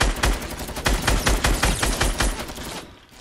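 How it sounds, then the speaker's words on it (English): Grenade launcher fire in a Fortnite match, heard as a quick, steady run of about a dozen loud, close shots in rapid succession that stops abruptly. "Where they shooting nade launchers from?"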